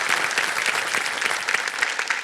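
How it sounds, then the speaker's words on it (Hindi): Loud, sustained applause from a studio audience on the Kaun Banega Crorepati game show set, steady dense clapping filling the whole stretch with no voices over it. "बहुत जोर से ताली बज रही है आपके लिए जय जी"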